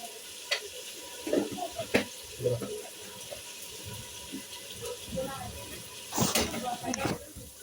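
Meat dropped into a hot pan already seasoned with turmeric powder and spices while cooking for biryani at home: low sizzling and frying under stirring clatter and scrapes, with someone talking throughout.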